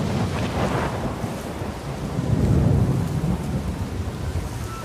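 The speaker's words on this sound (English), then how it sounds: "A forest fire and a storm give us a physical representation of the turmoil in Kratos" Storm in the video game God of War, with a forest fire nearby: steady heavy rain and wind under a deep rolling rumble of thunder that swells midway, with no talking.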